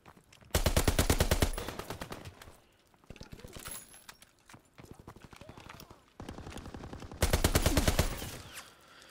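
Light machine gun fire in the Call of Duty WWII video game: long rapid bursts of rattling shots at the start and near the end, with shorter, quieter bursts between, loud and close over game ambience.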